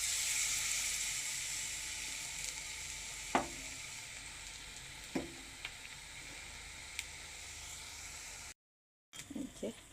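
Bean fritters frying in hot oil give a soft, steady sizzle, with a few faint clicks and knocks and a brief gap near the end, and no voices.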